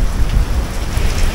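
Steady rain pours down with a low rumble of thunder beneath it during a Brompton folding-bike ride, a dense continuous wash of noise with no voices.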